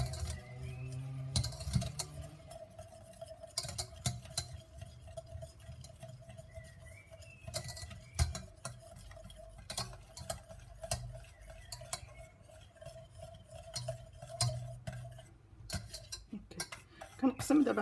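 A utensil stirs mayonnaise with salt and lemon juice in a bowl, with quick soft clinks and scrapes repeating close by under a faint steady hum, plus a few louder knocks.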